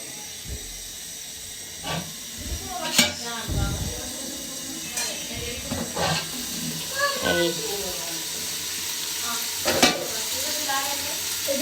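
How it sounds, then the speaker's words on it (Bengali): Curry being reheated in a pan gives a soft sizzle and hiss, with intermittent stirring scrapes and clinks. "এখানে হচ্ছে তরকারি গরম হইতে বসাইছি দেখেন তরকারি গরম হইয়া ধোয়াও বের হইতেছে"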